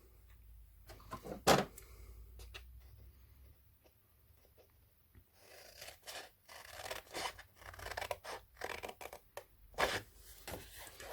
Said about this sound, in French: Je vais ensuite, avec mes ciseaux, couper cette ligne-là de chaque côté et enlever cette languette.